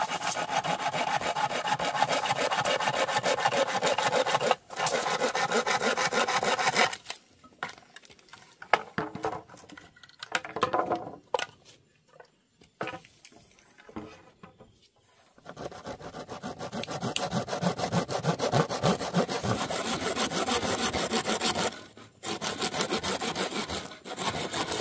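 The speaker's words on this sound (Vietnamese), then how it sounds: "Đây nè, em cưa ở ngay cái vạch mét cám này nè." A hand saw cuts through wooden frame pieces for a bed, steady back-and-forth rasping strokes running close and loud, with a quieter stretch of lighter scraping and pauses midway before the sawing resumes.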